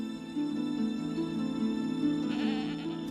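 Young goats bleat in a herd, a steady, close, sustained cry with a strong wavering tone running the whole time and faint background sounds rising near the end.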